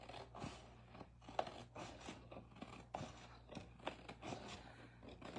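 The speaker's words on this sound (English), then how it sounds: "we can cut it with the scissors" Faint, repeated snipping of scissors through paper while assembling a scrapbooking kit, a run of soft crisp cuts in an uneven rhythm over a low steady hum.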